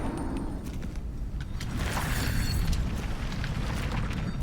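An explosion blows up enemies in the VR shooter Into the Radius 2, a deep rolling boom and rumble that swells and lingers with scattered debris crackle, loud and without voices.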